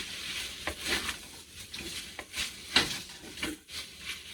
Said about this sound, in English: Now, if you wanna get this all mixed in, get that flour paste cooked out of it